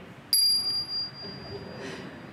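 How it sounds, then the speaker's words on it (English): A single strike sounds on the tiniest handbell of a six-octave ensemble, pitched at high D. It gives one bright, sharp ring that fades slowly in a concert hall. "So this is the very tiniest bell we have now."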